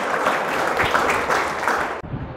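An audience at a mock-test prize presentation clapping loudly, dense sustained applause for about two seconds that cuts off abruptly, then a faint trailing clap.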